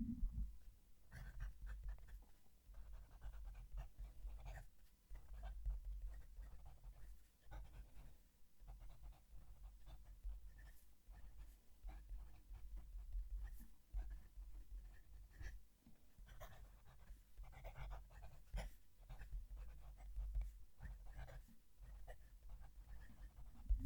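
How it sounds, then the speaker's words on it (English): Fountain pen nib scratching across paper, close and quiet, a steady run of small rhythmic scrapes and strokes with brief pauses between words. "When I'm writing, it's like I'm hearing the noise from the nib going over the paper"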